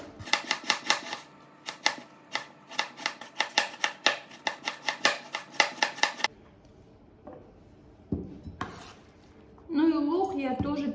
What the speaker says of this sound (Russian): 1 среднерезчатый лук, который я нарезаю вот на такие перья